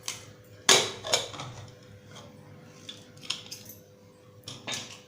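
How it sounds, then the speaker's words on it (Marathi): Pressure cooker lid opened after cooling, used for cooking Malvani-style sprouted brown chana usal: a few sharp metallic clanks and clatters close by, with a louder clack near the start and quieter knocks after. "आपण झाकण उघडूया."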